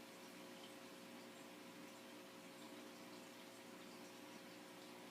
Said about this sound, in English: I'm going to very gently pour it into the filter itself.